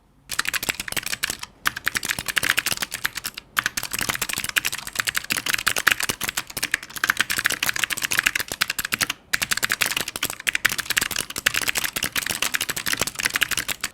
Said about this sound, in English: here's how the switches of the V800 RGB sounds like